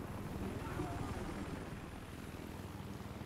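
Helicopter in the Battlefield Hardline video game, a steady rhythmic rotor thump and engine drone at moderate loudness throughout.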